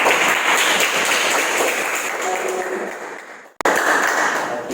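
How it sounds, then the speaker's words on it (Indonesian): A classroom applauds a student group after its presentation in an Islamic religious education lesson. Dense, steady clapping fills most of the moment, then thins and cuts off near the end. "terima kasih tepuk tangan untuk kelompok 2"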